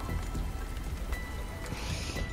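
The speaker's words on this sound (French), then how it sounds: "Et ça pleut." Rain falls in the video game Subnautica Below Zero as a soft, even patter with scattered drops, faint and alone with no voices.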